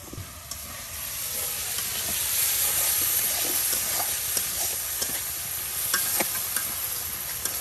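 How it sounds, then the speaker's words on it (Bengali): Shrimp hit a pan of spices in a village kitchen and sizzle loudly, a continuous frying hiss with steady crackle and a few sharp pops and spatters scattered through it. "আর এই দেখেন চিংড়ি মাছ এখন আমাদের মশলার উপরে সুন্দর করে দিয়ে দেওয়া হইতেছে"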